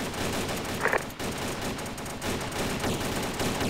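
Gunfire in the military video game Arma 2: dense, rapid bursts of automatic weapons fire with overlapping shots, loud and continuous, with no voices present.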